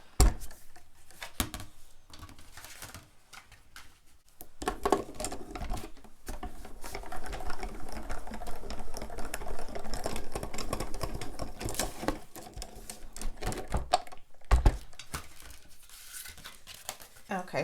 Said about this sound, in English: So I'm going to run this through. get my cutting folder.